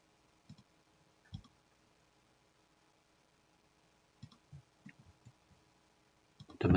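Sparse, quiet computer mouse clicks while drafting in AutoCAD, coming singly and in short bursts across the stretch, with a louder rustle at the very end.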